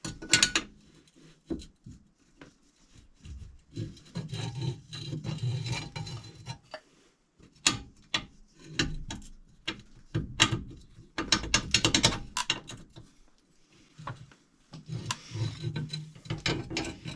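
A ratchet clicks in irregular bursts while a bolt is tightened during brake and strut work on a 2016 Subaru Forester, with close clicking runs, pauses and light metallic handling between them.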